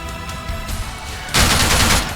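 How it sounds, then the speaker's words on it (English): Automatic machine gun fire in the military shooter ARMA 3 starts with lighter shots, then erupts into a loud, sustained burst over the last second, with no talking. "I'm really liking that automatic machine gun fire."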